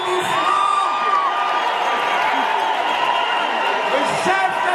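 A packed Paris hall of more than 4,500 people cheers and whoops to welcome President Félix Tshisekedi and first lady Denise Nyakeru Tshisekedi. The crowd roars loudly and without a break from start to finish, with shouts and scattered voices mixed in.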